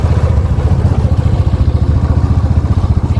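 Scooters ridden along mountain roads in Spiti Valley, a steady, pulsing small-engine drone that stays close and loud throughout with no talking.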